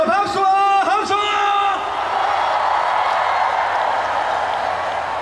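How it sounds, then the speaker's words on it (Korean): A large concert audience at a rainy outdoor stadium show in Goyang applauds and cheers, a wide sustained wash of clapping and shouting that rises right after a brief amplified voice on stage and stays loud to the end. "다 같이 한 번 더 박수와 함성!"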